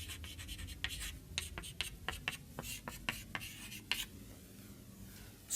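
Chalk or marker scratches across a board in a lecture hall, a quick series of short strokes and taps at moderate distance, then trailing off into room hiss with no voice.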